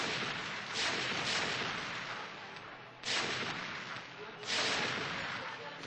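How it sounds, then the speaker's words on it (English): Siege tanks fire artillery in a StarCraft match, with three heavy, rumbling blasts spaced a second or two apart over a continuous background roar. "Nothing much he can do about those 5 siege things."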